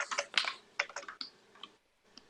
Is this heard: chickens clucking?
no